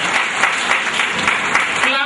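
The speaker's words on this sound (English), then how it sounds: "Can we please clap for them?" An audience at a chef competition gathering applauds in a brief burst of steady clapping, with voices mixed in.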